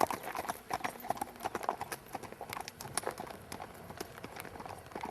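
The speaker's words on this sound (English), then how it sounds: "that's Captain. He's a 6-year-old gelding" A six-year-old gelding standing 15 hands clip-clops along, his hooves striking in a quick, uneven rhythm of close, distinct knocks, with faint background noise.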